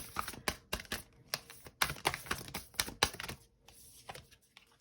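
A deck of tarot cards being shuffled at close range, giving rapid papery riffles and flicks in short bursts with brief pauses, no talking.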